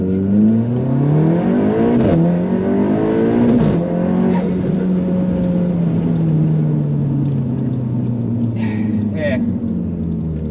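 A 510 BHP Audi S3 8V launches hard, its engine revving loud and close with rising harmonic sweeps through quick gear changes, a steady throaty roar filling the whole stretch as a voice talks over it.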